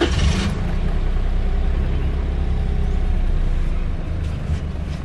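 A 2013 Toyota Agya TRD engine cranks with a short burst, then settles into a steady, close, low idle drone that runs throughout.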